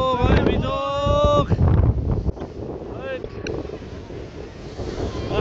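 Strong wind gusting during rain on a mountain hike to Jamacho Gumba, with buffeting rumble against the microphone and voices talking over it throughout.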